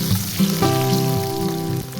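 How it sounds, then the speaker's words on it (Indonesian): Shallots sautéing in frying oil in a pan, about six cloves, sizzling steadily and fairly loud with a constant crackle and a few soft stirring bumps, no voices. "Kemudian kita tumis bawang merah kira-kira 6 siung"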